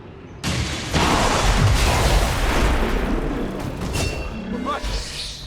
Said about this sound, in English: However, to get us started we will use Matthew's Shredstorm Cannon.